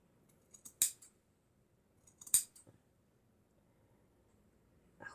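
A doll's face is trimmed with scissors: two crisp, distinct snips about a second and a half apart, plus a third at the end, each a sharp close metallic cut against near silence.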